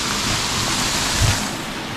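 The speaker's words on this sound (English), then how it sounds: "the waterfall is running really nice thanks to the rain last night" A waterfall runs full after a night of rain, pouring as a steady, broad rushing roar close by with no voices.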